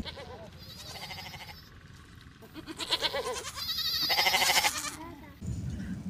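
A goat bleats several times in wavering, nasal cries that rise and fall, fairly close and clear, with a stretch of louder calling near the end and no talk over it.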